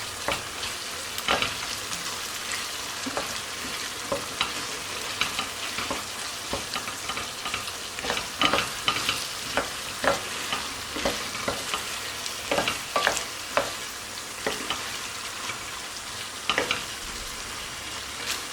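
Broad beans cook with pepper and tomato paste in a pan, a soft, steady frying sizzle broken by repeated clicks and scrapes of a spoon stirring.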